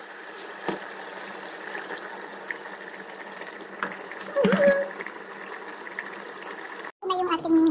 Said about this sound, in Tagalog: So, lagyan natin ng tubig.